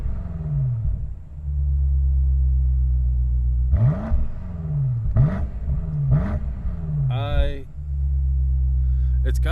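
A 2023 BMW M8 Competition Convertible with the exhaust button on, engine droning steadily at close range, then several quick rising revs in the middle, with a brief whine before the drone resumes.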